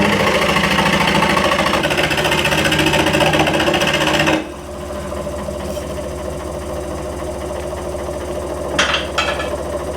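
A saw, probably a jigsaw, cuts out a wooden oval serving tray with a loud, close, rapid buzzing vibration that shifts to a lower idling hum partway through, with a brief scrape near the end.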